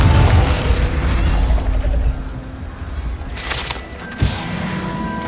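A Confringo blasting spell from Hogwarts Legacy goes off in a loud booming explosion with a rumbling tail, followed by crackling debris and a second sharp impact.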